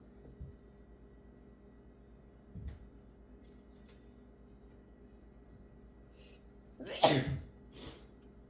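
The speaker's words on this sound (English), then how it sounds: "I think I have to sneeze." Two sneezes close together near the end, loud and sharp, after a quiet stretch with a few faint sniffs.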